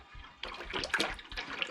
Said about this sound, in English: Started filling the water